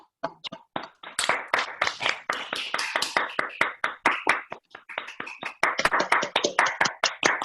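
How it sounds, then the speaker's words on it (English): A few people clap unevenly, close and crisp, with sharp separate handclaps rather than a full crowd roar. "please give him the applause he deserves"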